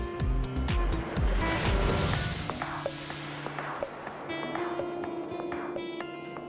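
Ocean waves break on an African beach, a loud rushing crash at first that fades into a softer wash of foam and surf.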